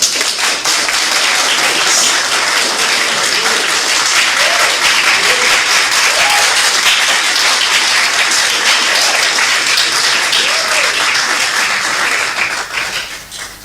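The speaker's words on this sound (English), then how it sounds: "Let's give a round of applause to the incoming First Lady." Sustained applause and clapping from a crowd at a political gathering greeting the incoming First Lady, dense and steady throughout before tapering off at the end.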